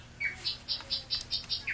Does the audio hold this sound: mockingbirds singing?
yes